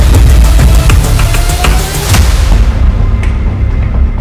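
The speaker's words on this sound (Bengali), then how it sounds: "তেহরানে বিস্ফোরণের শব্দ শোনা গেছে মঙ্গলবার ভোরে।" Explosions in Tehran during the Iran-Israel war: a loud, dense roar of blasts with repeated heavy booms and crackling bursts rolling on throughout, with no voices.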